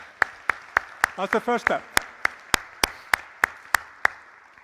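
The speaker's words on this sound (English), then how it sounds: "give me a big applause, big clap, applause" A steady series of sharp, evenly spaced claps from a conference audience rings out, about one every third of a second, with a brief spoken phrase partway through.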